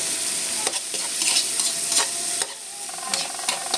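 Onions and mung beans sautéed in a pan, a close steady sizzle broken by frequent scraping stirs and spatula knocks, no voices.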